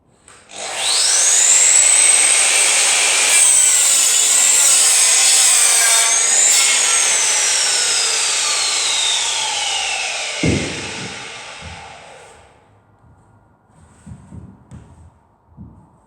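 A hand saw trims a timber board for a feather board garden gate, sawing in one long close pass before the offcut drops and a few faint knocks follow.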